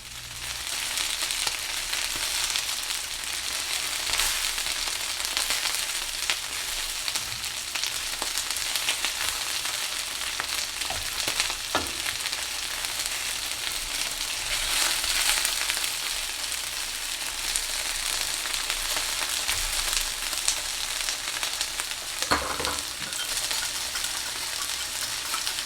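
Steady, loud sizzling of chicken frying meat side down in a pan, continuous throughout with occasional faint clinks.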